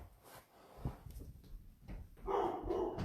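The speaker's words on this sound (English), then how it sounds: "My dog's kind of going crazy." A dog barks a few times at a distance in a room, short irregular yelps rising out of quiet household background with no talking.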